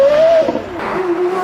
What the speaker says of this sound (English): the glorious sound from that Porsche developed V10